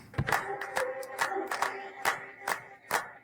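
Sharp rhythmic hand claps from the accordion theme music of The White Lotus, recurring at a steady beat with a faint melodic bed underneath.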